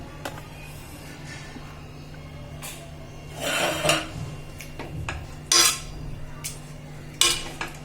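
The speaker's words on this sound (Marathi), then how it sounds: "मॅशरनेच बारीक करायचं आपल्याला" Hand masher working cooked pav bhaji vegetables in a metal pot, irregular squelching thuds and clanks against the pot, close by and moderately loud, with quieter gaps between strokes.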